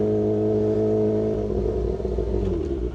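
A car in first gear on a parking lot pulls away, engine droning steadily and climbing slightly in pitch as it speeds up, close and moderately loud with no talk.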